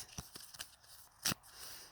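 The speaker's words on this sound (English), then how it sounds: "That's why I'm shuffling more than normal." Damp oracle cards being shuffled outdoors, giving a few soft riffling bursts and one sharper flutter near the middle, faint and close with no voices.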